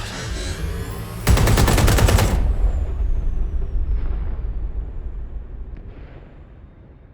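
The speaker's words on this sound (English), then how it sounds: "Moments ago, a series of explosions devastated 3 sites in London." A sudden burst of loud, rapid-fire video game explosions in Watch Dogs: Legion crackles for about a second, then fades into a long, low rumbling decay.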